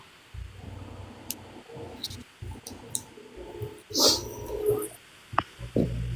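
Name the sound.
dog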